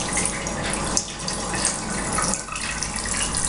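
Tap water runs steadily into a bathroom washbasin while a face is rinsed, a continuous close splashing rush with small interruptions from hands in the stream.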